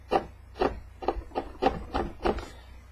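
Firm, rhythmic rubbing on a vinyl dye decal being pressed onto a surface, seven quick scratchy strokes in steady succession, close and alone.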